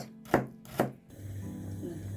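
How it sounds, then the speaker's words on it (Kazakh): Two sharp knife chops strike a cutting board as two garlic cloves are finely chopped, followed by quieter, softer scraping and rustling against the board. "Мен осындай 2 сарымсақ алып алдым. Осыны майдалап тура қосып жібереміз. Майда қылып туралаймыз."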